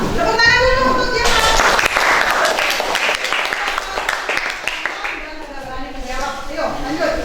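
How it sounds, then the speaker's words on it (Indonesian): Classmates in an Indonesian school lesson clap for a student, a burst of quick, overlapping handclaps lasting a few seconds, with children's voices chattering before and after. "Tepuk tangan dulu untuk dia."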